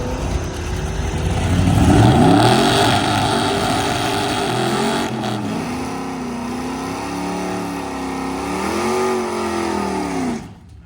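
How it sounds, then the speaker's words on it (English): Whiplash Cuda and a big truck launching side by side down a dragstrip, engines roaring loud and close, revving hard then fading slightly as they pull away. "We got big nasty Ian's truck versus the Whiplash Cuda"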